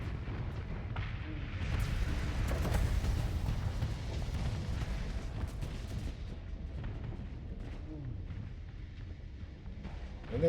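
Explosions tear through a space station in the space combat game Starsector, a dense, continuous roar of booming blasts and deep rumble that stays loud throughout, with a final sharp burst at the end.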